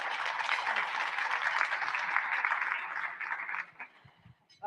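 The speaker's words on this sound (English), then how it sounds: "Can we give Dr. Bennett a round of applause" Loud audience applause at a leadership summit dinner, dense clapping from a crowd that holds steady for a few seconds, then thins out and tapers off quickly.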